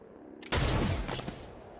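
Gunfire from squad weapons in the turn-based tactics game XCOM: Chimera Squad: a sudden loud burst of shots that rings out and decays, with a smaller report about a second later.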